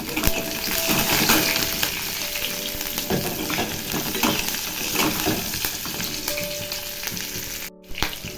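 Chopped green chilies fry in a pan for a Korean-style potato dish, a loud steady sizzle with scraping stirs and small clinks throughout, cutting out briefly near the end, with no talk.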